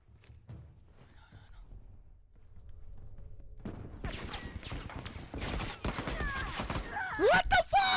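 Burst rifle fire in The Last of Us multiplayer: after a quiet start, rapid clusters of sharp gunshots crack out in quick succession, with other game effects and a horse-like whinny near the end.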